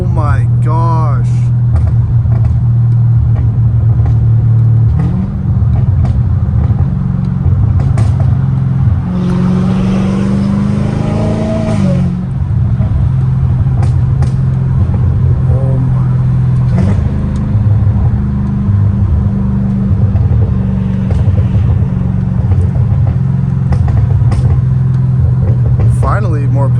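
Straight-piped Dodge Hellcat Redeye with its exhaust rumbling under steady engine drone, rising in a rev midway and letting out scattered pops, loud and close from inside the car while a person talks over it.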